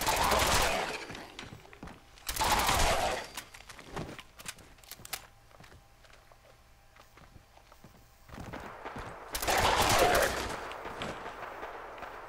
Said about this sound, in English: Sounds of gunfire off in the distance.